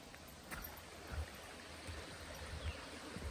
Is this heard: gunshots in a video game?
no